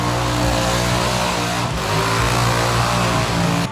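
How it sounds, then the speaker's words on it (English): A car performs a burnout at the Cleetus and Cars drag racing event, its engine holding a loud sustained roar with steady droning harmonics that shift slightly in pitch before cutting off abruptly. "And then there were some burnouts."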